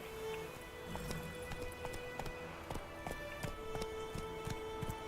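Roach, Geralt's horse in The Witcher 3 video game, galloping: a quick, steady clip-clop of hooves at moderate volume over a soft, rain-like ambient hiss.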